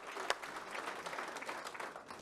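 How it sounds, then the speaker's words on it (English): An audience at a forum applauds for a moderator, a short, steady patter of clapping at moderate volume with no voices. "a big round of applause, I think, for Carol and for the work she's done today"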